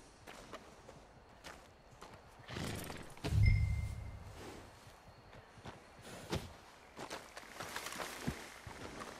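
Hooves of a horse in Red Dead Redemption 2 thud softly and irregularly at a walking pace, with one heavier low thump near the middle and faint background ambience throughout.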